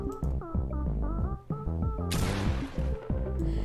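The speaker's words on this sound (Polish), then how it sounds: "Uwaga, więc oddaję w tym momencie strzał." A single sharp, loud gunshot from a first-person video game running at very low frame rate bursts out partway through, cutting across steady, tonal in-game background sound.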